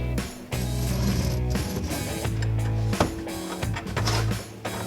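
Beneath a bathroom basin, a tap fitting with flexi tails is tightened from underneath, giving close, loud mechanical ratcheting and grinding clicks in uneven bursts over several seconds.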